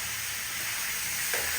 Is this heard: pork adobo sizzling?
yes